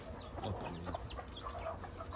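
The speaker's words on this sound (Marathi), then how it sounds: "हे एकदम देशी गावरान कोंबडे" Desi free-range village chickens cluck and call in short, overlapping bursts close by, with a steady farmyard murmur underneath.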